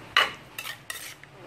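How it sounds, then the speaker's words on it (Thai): Eggplant and mushroom soup is ladled into a bowl: three short metallic scrapes and clinks of a utensil against the pot and dish, close by and separated by brief pauses. "จะตักใส่ถ้วยให้เบิ่งนะจ๊ะทีนี"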